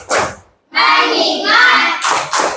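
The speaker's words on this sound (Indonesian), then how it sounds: "Tepuk fokus." Classroom clapping game: a quick clap, a short pause, then a child-like chanted voice, followed by two more sharp claps in rhythm, close and loud.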